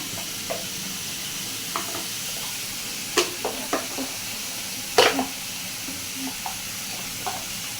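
Spices frying in a pan for an egg and potato curry, with coriander and chilli powder added: a quiet steady sizzle under soft stirring scrapes, with a few sharper clinks of a spoon against the pan.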